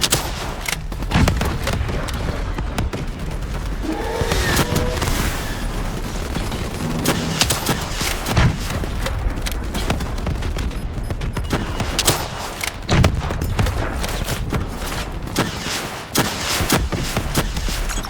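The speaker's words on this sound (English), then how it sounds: "Javelin missiles incoming!" Dense battle in Call of Duty: Black Ops 3 with Javelin missiles incoming, a continuous loud roar of gunfire and explosions, with sharp blasts and booms scattered throughout and no talk heard over it.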